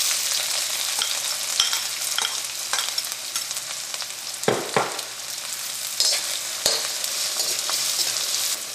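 Chopped onion and green chillies sizzling in hot oil with whole spices for a vegetable pulao, a steady close crackle broken by occasional stirring scrapes and clinks of the spoon.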